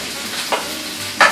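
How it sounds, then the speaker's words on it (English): Leftover rice fries and is stirred in a pan, with a steady sizzle and two short scraping stirs, close and alone. "Get it all frying."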